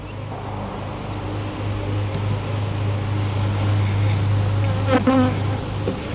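Honey bees buzz densely around an open hive while frames holding brood, nectar and pollen are handled, a close, continuous drone with a low steady hum beneath and a brief rustle near the end.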